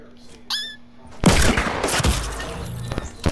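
Gunfire in the Fortnite video game, a sudden burst of loud, rapid shots with impact and shatter sounds after a short quiet lead-in, over a tone from the game and with players talking.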